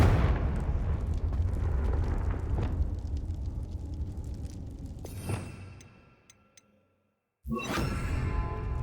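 A Confringo explosion spell goes off in the Hogwarts Legacy video game: loud rumbling blasts with a sharp burst near the middle, a fade almost to silence, then a sudden powerful boom that stays loud to the end.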